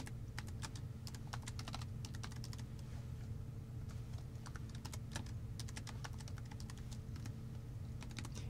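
Steady typing of code on a computer keyboard, with quick irregular clusters of clicky keystrokes over a constant low hum, close and moderately quiet.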